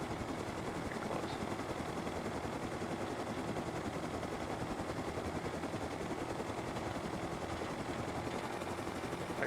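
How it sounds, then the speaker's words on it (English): Helicopter in the survival game Rust, a steady, continuous rotor drone with engine rumble that holds close and loud for the whole stretch, no voices over it. "still not that good at flying a chopper"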